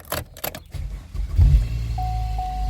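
A 2010–2017 Chevrolet car starting with a newly programmed flip key: a brief key and mechanical rattle, then a low engine crank catching into a steady idle, with no talk.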